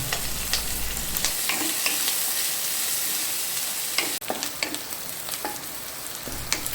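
Ingredients for egg curry are slowly sautéed in a pan, with a steady sizzle under repeated scraping stirs of a spoon and a brief clatter partway through.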